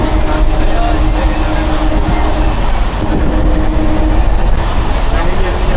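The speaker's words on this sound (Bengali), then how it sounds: "ঢুকে গেল প্ল্যাটফর্মে খড়গপুর টাটানগর" A Kharagpur–Tatanagar MEMU local train rolls into a station platform with a loud, continuous rumble and roar that stays close and steady throughout.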